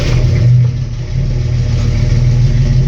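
A 1964 GMC truck engine catches and settles into a loud, steady low rumble close by, with a brief swell of revs at the start before it evens out into idle.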